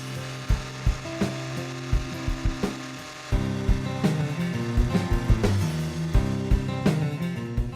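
A hedge being pruned and squared up with hand shears gives a run of sharp, regular snipping clicks, close by, which thicken into busier cutting and rustling of twigs partway through.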